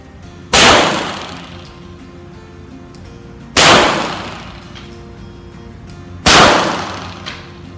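Three loud, widely spaced shots from a Glock 17 Gen 5 pistol at a shooting range, each a sharp crack followed by a short decaying echo, with quiet range background between.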